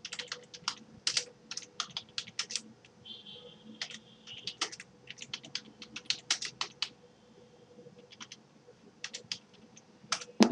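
Typing on a computer keyboard while entering a narration in TallyERP9 accounting software: bursts of close, crisp key clicks with short pauses between, ending in a louder keystroke.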